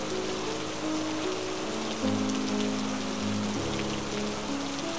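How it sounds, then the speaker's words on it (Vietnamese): Steady rain falls as a sound effect in a Vietnamese audio story, a dense even hiss of drops on a surface under a soft sustained musical tone. "Trong tiếng mưa rơi và tiếng gió rầm rào vây quanh"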